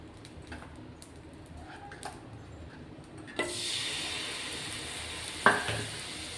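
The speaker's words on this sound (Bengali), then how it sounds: "বাকি ব্রেডগুলো এভাবে ভেজে নেব।" Slices of bread on an oil-brushed hot pan, for a yogurt toast, start a steady sizzle after a quiet opening, with a sharp knock partway through.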